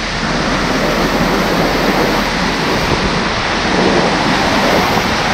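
A tall waterfall in Nejapa, El Salvador, about 100 metres high, roars as a loud, steady broadband rush of falling water, constant and close with some wind buffeting and no talk.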